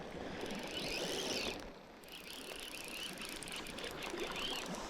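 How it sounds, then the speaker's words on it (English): Rain pattering outdoors during a fly-fishing outing in snow and rain, a steady soft hiss of drops close by, even and continuous, with no talking. "She knows it's raining."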